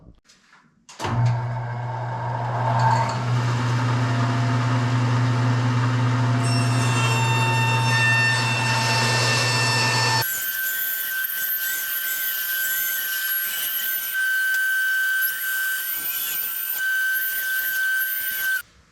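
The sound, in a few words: bandsaw cutting plastic mud flap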